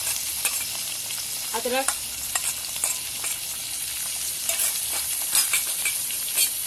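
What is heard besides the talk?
onion, tomato, green chili and ginger cooking in pan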